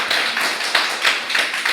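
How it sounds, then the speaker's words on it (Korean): Clapping in a church service welcoming newcomers comes close and loud, with a rhythmic pattern of sharp claps at roughly even intervals and no voices over it. "우리 박수로 환영하도록 하겠습니다."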